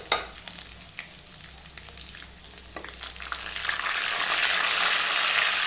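Garlic fries in hot oil while being stirred for a dal, first with scattered scraping and crackles, then building into a steady, louder sizzle over the last couple of seconds, with no one talking.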